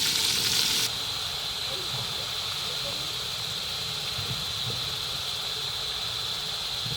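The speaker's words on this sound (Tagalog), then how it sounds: "Gisahin ko muna." Jackfruit sautéing in a hot pan for ginataang langka gives a steady, close sizzling hiss that runs unbroken from start to finish, slightly louder in the first second.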